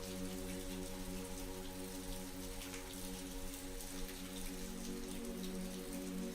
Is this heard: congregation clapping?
no